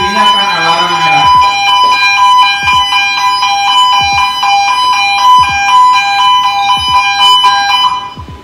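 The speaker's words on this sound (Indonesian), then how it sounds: "Nah, lampunya akan blitz dan di sininya akan alarm merah." A Honeywell RAE Mesh Guard wireless gas detector sounds its alarm, a loud, steady, high-pitched electronic tone with a pulsing pattern running throughout, and a brief voice appears near the start.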